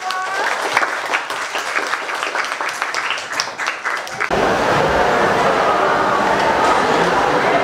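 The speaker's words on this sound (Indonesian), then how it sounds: "Tepuk tangan buat kalian" Students in a Jakarta junior high school classroom break into applause, a loud, full burst of clapping that starts abruptly midway and continues steadily after a stretch of someone talking.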